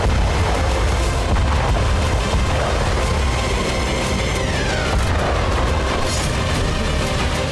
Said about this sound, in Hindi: इस आग की वजह थी एयरबेस पर यूक्रेनी ड्रोन का धमाका।